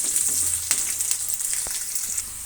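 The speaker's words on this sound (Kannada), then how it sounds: "ಈ ಒಗ್ಗರಣೆಗೆ ಸ್ವಲ್ಪ ಉಪ್ಪನ್ನು ಸೇರಿಸ್ತಾ ಇದ್ದೀನಿ" Chopped onion tempering sizzles loudly in hot oil in a pan for a mung bean sprout sambar, a close continuous crackle with sharp spits and stirring scrapes, no voices.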